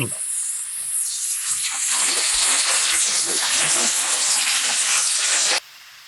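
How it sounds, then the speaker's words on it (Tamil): Marinated prawns fry in hot oil for a Kerala-style prawn fry, giving a loud, steady broadband sizzle and hiss that continues for most of the stretch before cutting down sharply near the end. "இப்போ அப்படியே எண்ணெயில் வந்து அப்படியே பரட்டி அப்படியே ஃப்ரை பண்ண வேண்டியதான்."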